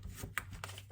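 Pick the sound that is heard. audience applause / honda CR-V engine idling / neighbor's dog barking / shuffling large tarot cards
shuffling large tarot cards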